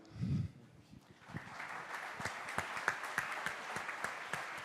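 Audience applause at an award ceremony, scattered claps building into a moderate, somewhat distant round after a brief low thump at the start.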